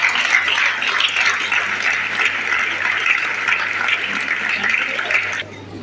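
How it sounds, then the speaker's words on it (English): Students at a school investiture ceremony give a big round of applause, a broad, steady hiss of many hands clapping at some distance that stops abruptly near the end. "I ask our students to give a big applause."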